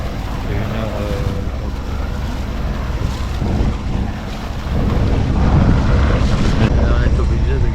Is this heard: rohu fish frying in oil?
no